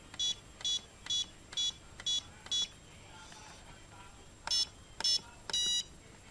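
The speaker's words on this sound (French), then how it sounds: "Vous avez entendu donc un bip qui est un petit peu plus long et qui signifie que mon trim est bien sur le neutre." A Cheerson CX-20 drone beeps in short electronic bursts, six evenly spaced tones, a pause with faint sounds, then three more, the last a little longer, signalling the trim is at neutral.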